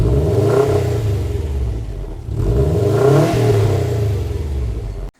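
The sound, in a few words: Subaru WRX STI quad exhaust revving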